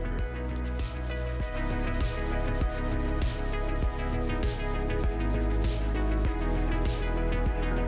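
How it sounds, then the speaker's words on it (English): 320 grit sandpaper rasps across the car paint of a JDM Nissan 180SX in even, repeated strokes, a steady close rubbing rhythm under a faint tonal background. "then we're going to go up to a 320 grit sandpaper"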